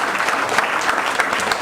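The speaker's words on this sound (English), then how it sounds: "So let's give Mark another big round of applause." Audience applause from a big crowd at a talk, a dense steady clatter of many hands clapping, fairly loud and unbroken.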